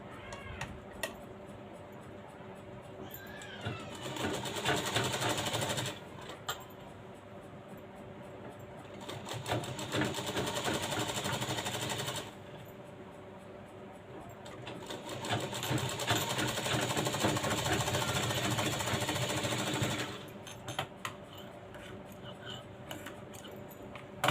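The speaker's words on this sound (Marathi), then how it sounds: "इथं आपण डबल शिलाई घ्यायची आहे" A sewing machine runs a double line of stitching along a cross strip of fabric, its fast even whirr and ticking coming in three long bursts separated by short pauses, close and clear.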